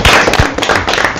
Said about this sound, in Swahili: Tumpigie makofi kwa furaha na shangwe.